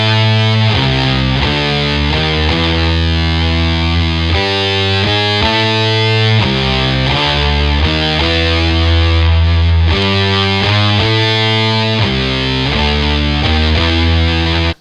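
Heavily overdriven electric guitar run through a whammy pedal, playing a riff with thick pitch-shifted octave layering; loud, continuous and close, with punchy repeated chord hits and no talking.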